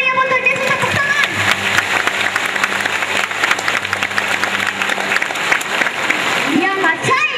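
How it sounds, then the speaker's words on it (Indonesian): A congregation at an afternoon church service in Makale claps loudly and continuously, with a sustained tone and a voice briefly heard over the clapping. "Kita tepuk tangan yang meriah untuk Yesus, tepuk tangan."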